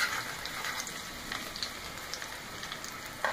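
Garlic sautéing in hot oil in a pan while cooking fishball and kikiam, a steady soft crackling sizzle with small popping spatters, close and continuous.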